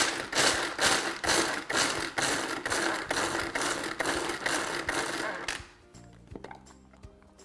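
Pistachios are crushed with a run of rapid, loud grinding rattles that beat in a steady rhythm up close, then break off into a few quieter knocks and clatters near the end, with no speech.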